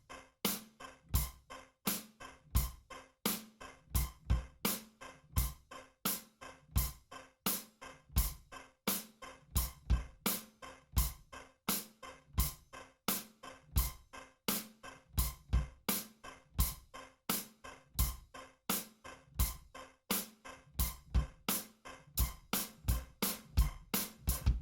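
A drum kit plays a steady quarter-note beat along with Blinding Lights, evenly spaced kick and snare hits with a continuous cymbal wash, moderately loud and close for a long stretch.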